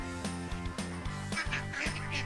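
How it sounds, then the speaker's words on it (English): Ducks quack on a farm in a cartoon soundtrack, a steady run of repeated quacks layered over bright music, no talk heard. "He uses his ears to hear the ducks go quack, quack."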